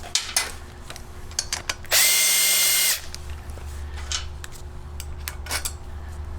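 A power tool spins out a bolt from a generator head in one loud, steady burst of about a second, surrounded by lighter clinks and handling knocks of tools and metal parts.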